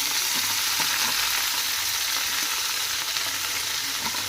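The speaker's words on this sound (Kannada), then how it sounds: "ಸೊಪ್ಪದೆಲ್ಲ ಹಾಕಿ ಒಗ್ಗರಣೆ ಕೊಟ್ಬಿಡೋಣ್ರಿ" Leafy greens dropped into an onion and chilli tempering that has turned red sizzle with a dense, even crackle and hiss, close and continuous, with faint scraping of stirring and no voices.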